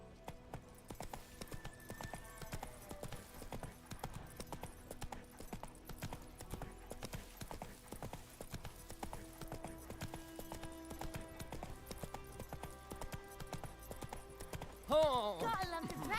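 The horse Roach's hooves clip-clop in The Witcher 3, a steady, quiet trotting rhythm that carries on throughout, mixed with game ambience and a voice.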